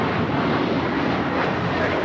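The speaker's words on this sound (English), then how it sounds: "2091 taking off to Dallas Fort Worth on the A321" An American Airlines Airbus A321 takes off from LAX, heard as a steady broadband jet roar with wind-like hiss, sustained and fairly distant with no voices.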